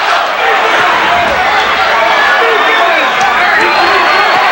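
A boxing arena crowd roars continuously as it urges on a fighter, the dense din staying loud and steady under a voice talking over it.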